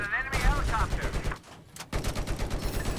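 Battlefield 4 game gunfire, with a burst of loud shots and rapid fire across most of the moment, briefly dipping before resuming dense and close.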